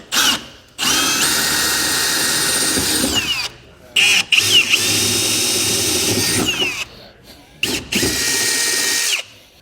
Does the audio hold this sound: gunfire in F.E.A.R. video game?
no